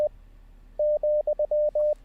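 A Morse code comma keyed as a sidetone, a steady mid-pitched beep broken into a quick run of dashes and dots with uneven spacing, clear and close with no talk over it.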